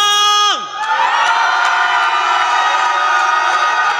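A church congregation at a Korean revival worship service erupts in loud, sustained cheering and shouting right after the worship music cuts off, a dense crowd roar with scattered whoops that holds steady to the end.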